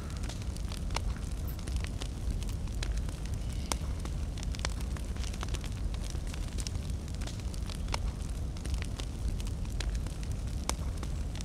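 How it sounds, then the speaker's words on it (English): A campfire in the Fortnite video game burns steadily, its constant crackle and hiss scattered with sharp pops over about eleven seconds, close and even, with no speech. "all you have to do is gain 50 health from a campfire"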